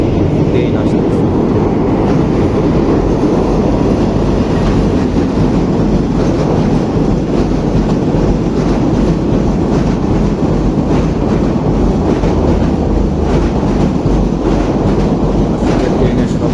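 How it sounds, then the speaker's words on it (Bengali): A train rumbles past beside the Turag river, a loud continuous roar of wheels and carriages with rhythmic clatter that fills the whole stretch and drowns out everything else. "আসলে ট্রেনের শব্দের কারণে কথা তেমন বোঝা যায় না।"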